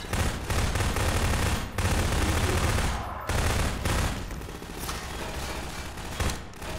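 Gunfire from a weapon in the video game Garry's Mod comes as loud, dense volleys of rapid shots, broken by brief pauses, and fills the whole stretch.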